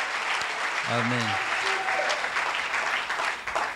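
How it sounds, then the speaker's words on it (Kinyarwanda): Church congregation applauding in praise, a steady broadband wash of clapping throughout, with a brief spoken word over it near the start. "Piga amakofi kwa Bwana Yesu"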